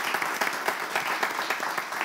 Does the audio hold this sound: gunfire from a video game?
no